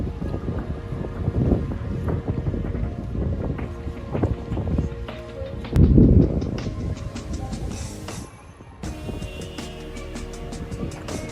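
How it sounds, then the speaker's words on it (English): Motorboat crossing the Venetian lagoon from Burano to Venice, a steady loud engine drone mixed with rushing water and wind buffeting the microphone, with a louder surge midway and no talking. "this is like a 30-minute boat ride"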